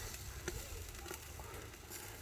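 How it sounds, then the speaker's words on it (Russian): Meat sizzles steadily in a hot frying pan, a continuous close crackle and hiss with small pops throughout and no talking. "А вот так красиво, все одинаково пожарить."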